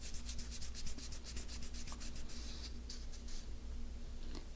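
Steady soft rubbing of a polishing pad buffing dark Sharpie ink off a metal surface, a continuous scrubbing hiss with repeated strokes, close and fairly quiet, no voices.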